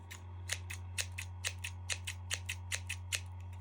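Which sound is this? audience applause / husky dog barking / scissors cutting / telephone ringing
scissors cutting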